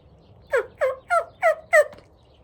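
A hand-operated turkey call, an uncleaned one, sounds five evenly spaced raspy yelps, close and clear against a quiet background.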